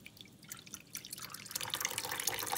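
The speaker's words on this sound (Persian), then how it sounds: "پس تقریبا قابلمه‌مون رو پر از آب می‌کنیم" Water runs from a tap into a cooking pot for rice pudding, a steady splashing that builds in level and brightness as the pot fills, with no talk.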